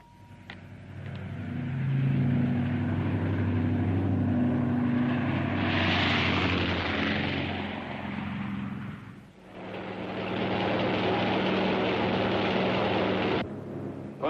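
A propeller airplane engine drones steadily during flight, a loud, continuous roar with low tonal hum. It rises briefly, dips for a moment and then resumes before cutting off near the end.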